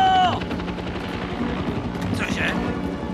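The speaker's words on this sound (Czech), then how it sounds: "Tak jdeme, odletím jedním vrtulníkem." A helicopter flies close by with a dense, continuous rotor chop and engine rumble, loud and steady, while a voice briefly calls out over it.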